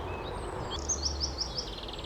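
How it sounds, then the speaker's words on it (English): Birds sing in a garden on a morning, a faint string of quick high chirps repeating in a short rhythmic run over a steady low background hiss. "The birds are singing away"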